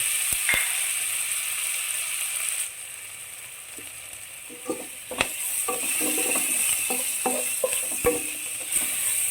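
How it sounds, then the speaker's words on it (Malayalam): Crushed ginger, garlic and green chilli sauté in a pan for fish biryani: a steady, close sizzle, later joined by a run of light spatula clicks and scrapes. "ഇഞ്ചി വെളുത്തുള്ളി പച്ചമുളകിൻ്റെ പച്ചമണം മാറുന്നിടം വരെ വഴറ്റുക"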